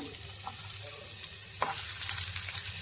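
Chopped onion and garlic fry in a pan with a steady, close sizzle that runs throughout, broken by a few scraping stirs.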